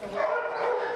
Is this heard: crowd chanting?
no